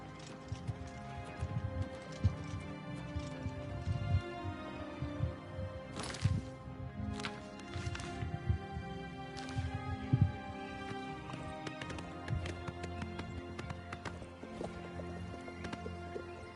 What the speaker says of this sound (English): And the horse is faster on here too, bro.